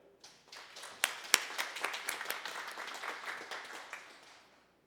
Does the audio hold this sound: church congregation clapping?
yes